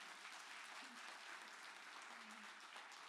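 Steady audience applause fills the room at a live event welcoming Delhi CM Atishi, a dense continuous patter of many hands clapping at moderate volume with no pauses.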